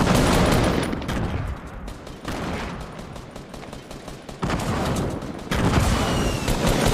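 Fortnite tournament battle with grenade blasts and rapid gunfire, heavy bursts of shots and booming explosions that shift in density across several loud segments, without speech.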